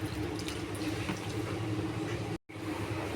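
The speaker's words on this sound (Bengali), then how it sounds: "এবার দিচ্ছি সামান্য জল।" Water trickles into a bowl of katla fish roe seasoned with turmeric, chili powder and salt, a steady close pour running through the whole stretch with one brief break near the end.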